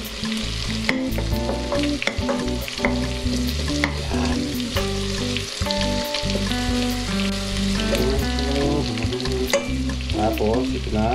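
Chili frying and being stirred with garlic in a pan for pork ribs Bicol Express: a steady, close sizzle with scraping stir strokes, holding at an even level throughout, over a constant tonal hum in the background.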